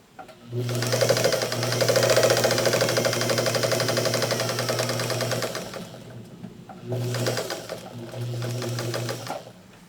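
A sewing machine stitches quilt fabric for a country road quilt block in two steady bursts, a long run of rapid mechanical whirring, a short pause, then a second shorter run, close and clear with no talking.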